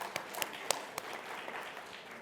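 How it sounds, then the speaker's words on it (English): Audience applause at a healthcare conference in the Cayman Islands: a soft, steady wash of clapping from a crowd with a few sharper individual claps standing out, fairly quiet and at a distance. "let's give them a round of applause"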